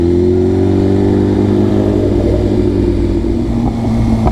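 A motorcycle engine drones loud and steady, its pitch climbing slightly as the bike pulls away, heard close with no voices.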